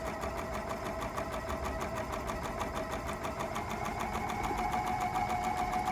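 A BERNINA L460 overlocker sews a flatlock seam with a steady, fast mechanical whir. The sound stays loud and even for about six seconds, close up, with no talking.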